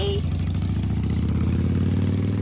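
A motorcycle engine idles steadily and close by, a continuous loud low rumble with a regular pulsing beat that never lets up, in a household setting as a couple heads out by bike.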